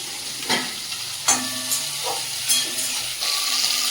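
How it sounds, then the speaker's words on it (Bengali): Crabs and chopped garlic fry in a pan with a loud, steady sizzle, broken by several sharp spatters and the scrape of stirring close by. "রসুন কুচি দিয়ে দেবো, কেটে রাখা কাঁকড়াগুলো দিয়ে দেবো।"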